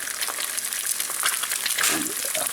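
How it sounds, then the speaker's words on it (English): Eggs sizzling and crackling in a hot pan, a close, continuous spitting fry with bursts of popping. "A lot of frying action going on there."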